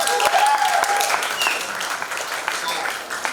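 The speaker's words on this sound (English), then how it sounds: "Can we have a round of applause for him?" Audience applause at a music launch event, a dense, steady wash of many hands clapping from a sizable crowd, loud and sustained throughout.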